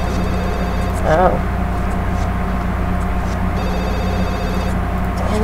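Telephone ringing in the Wren City video game, a repeating electronic ring pattern sitting under continuous game background sound and a low steady hum, with a brief chirp-like effect near the start.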